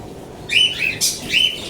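Pet birds, bought at a market, give a few short high chirps close by over a quiet background.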